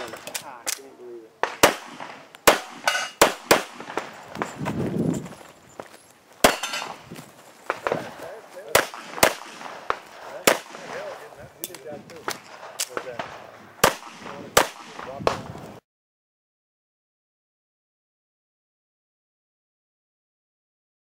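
Pistol gunshots at an IDPA shooting match, a long string of sharp, loud shots in irregular quick pairs and runs for about fifteen seconds, with faint talk in between, then silence.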